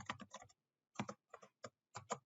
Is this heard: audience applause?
no